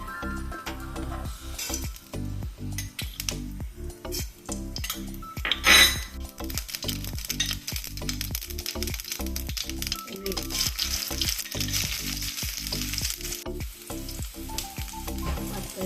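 Mustard seeds, onion and dried red chili fry in hot oil for a banana-peel thoran, giving a steady loud sizzle and crackle with frequent sharp scrapes and clinks of a spatula stirring against the pan.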